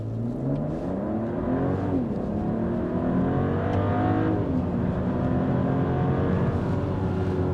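A 2024 Mercedes-Benz GLS 450 4Matic SUV accelerates hard, its engine note climbing steadily through the gears with brief shift dips, loud and constant from inside the cabin.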